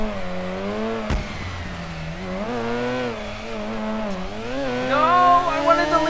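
A car engine screams at high RPM while drifting in the video game DRIFT21, its harmonic pitch rising and falling continuously with revs, joined by a brief tire squeal and growing louder near the end.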